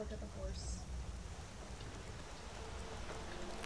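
Steady rain falls in the fantasy video game Skyrim, an even wash of patter filling the scene throughout, with a person talking over it.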